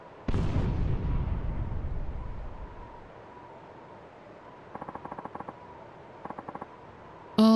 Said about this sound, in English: That was a gunshot